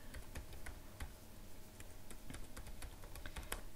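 Rapid, irregular keystrokes on a computer keyboard as someone types code, a close, dry patter of clicks with brief pauses between bursts.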